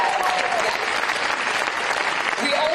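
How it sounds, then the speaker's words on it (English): A large audience applauds New Zealand's Jacinda Ardern at a Bill & Melinda Gates Foundation event, thick continuous clapping heard close and steady, with faint voices mixed in. "Let's give her a round of applause."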